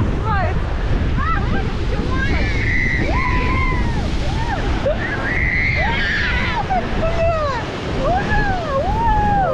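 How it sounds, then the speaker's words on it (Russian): Stormy Black Sea surf crashes onto the shore at Divnomorskoye, a loud continuous roar of waves with wind buffeting the microphone, while excited high voices and calls sound over it. "кому не понравятся такие волны вообще?"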